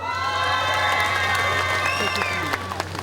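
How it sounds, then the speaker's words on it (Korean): Loud, sustained applause and cheering fill the air from a crowd at a grape and peach festival opening ceremony, mixed with whoops and children's shouts, with steady tonal background sounds underneath. "고향 선후배님들이 박수를 많이 쳐주시네요"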